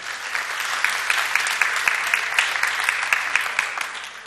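A studio audience claps warmly for a woman contestant, a steady dense applause with scattered sharp individual claps, sustained and fairly loud throughout with no talking.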